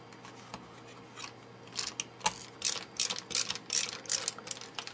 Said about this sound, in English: with a small Phillips head screwdriver, we will mount the mounting bracket to the monitor itself.